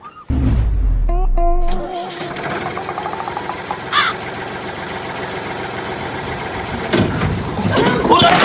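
A tractor engine runs steadily as a driver takes it out, a constant mid-level motor drone with a throaty start and a few louder surges, with people talking over it.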